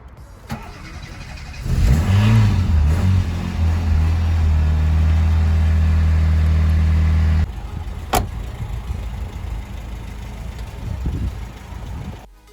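A Tofaş car engine idles steadily with a low, even hum for several seconds, then cuts off, leaving quieter background noise and a sharp click.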